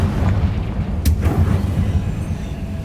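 A Confringo blasting curse going off in Hogwarts Legacy: a sharp burst about midway through, over a constant low rumbling bed, with no one talking.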